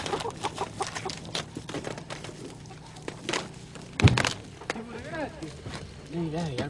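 Chickens clucking at a rural poultry sale, scattered and fairly faint under close conversation in Estonian, with a loud thump partway through.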